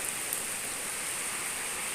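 Steady rain falls throughout an all-day downpour, a constant even hiss of drops with no clear breaks, moderately loud and close, with no talking.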